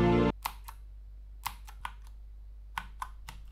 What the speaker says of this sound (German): Eine taktile Tastatur ist lauter als eine lineare Tastatur, aber leiser als eine Clicky-Tastatur zum Beispiel.